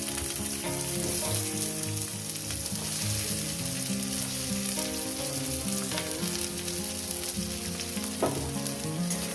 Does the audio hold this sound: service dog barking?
no